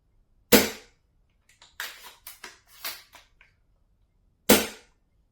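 An Archwick SPR 300 airsoft sniper rifle fires two sharp, loud shots about four seconds apart, with softer mechanical clicks and handling noises from the bolt in between.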